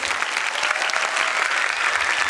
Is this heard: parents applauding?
yes